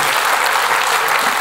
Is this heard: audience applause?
yes